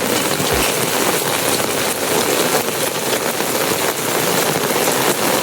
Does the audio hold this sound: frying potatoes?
no